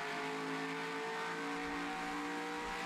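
A race car in the NR2003 racing sim at Phoenix runs at full throttle, its engine holding a steady high droning whine throughout, loud and continuous with no voices.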